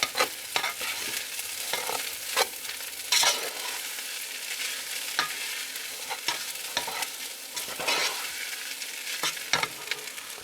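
Fried rice is stirred around a hot pan, giving a bright continuous sizzle broken by repeated scraping and clattering strokes of the utensil, close and clear with no talking.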